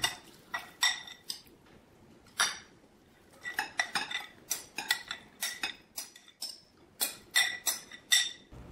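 Beet and herring salad with nuts and dill is mixed in a dish, producing a quick irregular series of close clinking and scraping cutlery-on-bowl strokes, some in short rapid bursts with brief pauses between.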